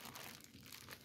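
Plastic bag from a clothing haul crinkling and rustling continuously as it is opened by hand, close and fairly loud throughout the short stretch with no talk over it.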